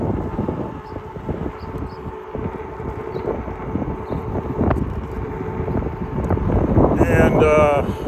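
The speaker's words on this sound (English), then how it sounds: "It's fairly windy out today." Wind buffets a bike-mounted microphone during a ride on a windy day, a loud continuous low rumble with gusty swells that builds toward the end.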